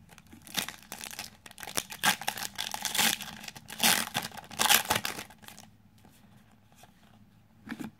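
Pokemon booster packs being torn open make close, crinkly foil tearing and rustling in dense bursts, quieting near the end with a last short crinkle.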